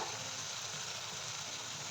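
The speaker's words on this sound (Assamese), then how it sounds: "চব্জিখিনি ড্ৰাইকৈ অলপ এনেকৈ ভাজি ল'ব" Vegetables frying dry in a home kitchen pan after garlic and ginger went in, a steady close sizzle and hiss running unbroken with no talk.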